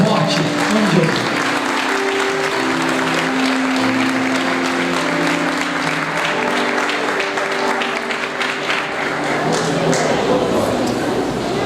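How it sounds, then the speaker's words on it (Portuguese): Church congregation applauding loudly to welcome a preacher, steady dense clapping that runs throughout with some voices and tonal sound mixed underneath. "Vamos receber o servo de Deus com palmas bem forte"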